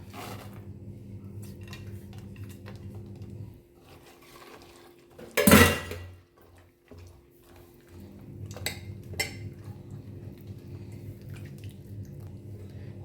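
Rava batter is mixed with jaggery syrup in a bowl, with soft clinks and stirring scrapes around a sharp louder clatter midway, close and fairly quiet, with no voices.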